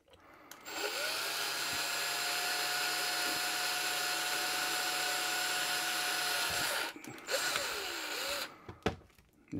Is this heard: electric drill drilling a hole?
yes